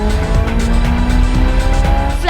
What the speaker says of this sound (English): Flat out through the range of revs, the 458 accelerated seamlessly